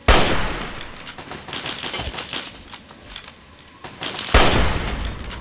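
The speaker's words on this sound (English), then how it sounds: "that's what was shooting at me. This turret." Automated turret gunfire in Fallout 3 rattles in dense, rapid bursts, loud and close, with a sharp, heavier volley near the end and sustained chatter in between.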